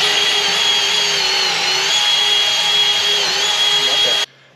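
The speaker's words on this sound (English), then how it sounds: "You got to drill up, kind of an angle right here." A power drill whines steadily at high speed, boring upward at a 45-degree angle into wood for a carpenter bee trap for about four seconds before cutting off abruptly.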